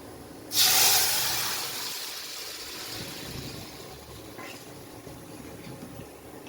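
Chopped chichinga (snake gourd) hits a hot pan of oil tempered with radhuni and dried red chilli, giving a sudden loud hiss that gradually settles into a steady, softer sizzle.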